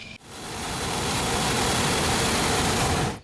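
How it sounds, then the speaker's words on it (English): A steady loud roaring hiss from a hot air balloon burner, with the faint rattle of its pilot light underneath, runs for about three seconds, then cuts off abruptly. "That rattling you hear is the sound of the pilot light for the burners."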